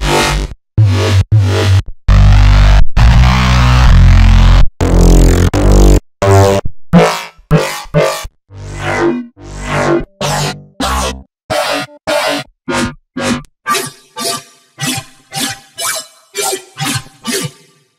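A string of FM8 synthesizer tones, bright metallic and bell-like notes in short bursts and stabs, loud and dry, with no voices.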